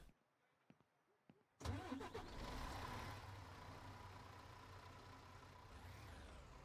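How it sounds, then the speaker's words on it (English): A fire truck engine in the firefighting game Into The Flames cranks and starts after a quiet pause, then settles into a steady, loud rumbling idle that continues to the end. "The engine."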